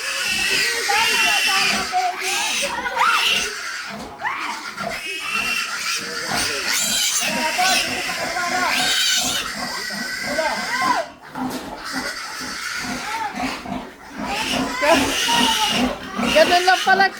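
A pet pig being coaxed to move with an apple grunts and squeals in loud, harsh, repeated bursts for a long stretch, close by, with people talking over the noise.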